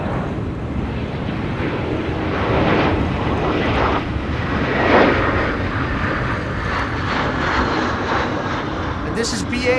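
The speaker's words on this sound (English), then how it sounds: "this is BA having arrived from London Heathrow" A British Airways airliner arriving from London Heathrow at Amsterdam Schiphol during high winds, its engines a broad steady roar rising and falling slightly, mixed with heavy wind noise and voices talking throughout.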